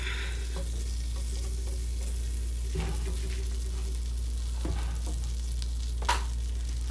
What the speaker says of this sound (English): Get my butter melted.